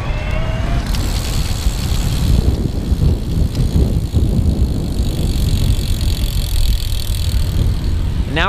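Close riding noise from a Haibike XDURO Urban S RX electric bike with hydraulic disc brakes, a steady rushing roll and wind over continuous low rumble, with brief squeals near the start and end.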